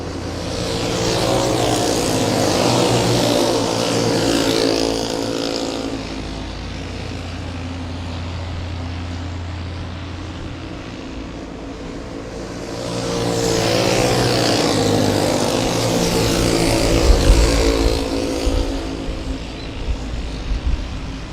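Race cars roar around the Golden Spike Speedway dirt track in Blue Earth, Minnesota, during the BP Wing Race of Champions, a steady loud engine drone that swells twice as the pack passes close by, with no talk.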